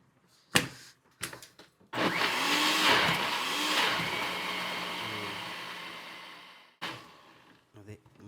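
A mixer grinder runs on brinjal chutney with a little water, giving a steady, fairly loud motor whine for about five seconds. It starts and stops between brief clatters and soft handling noises.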